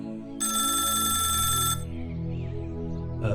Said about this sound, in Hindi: तभी दरोगा कमलनाथ के टेबल पर फोन बजता है